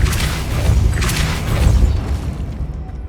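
In Hogwarts Legacy, a Depulso spell lands as a deep, rumbling boom with a crackling burst on top, fading into a low tail over about three seconds.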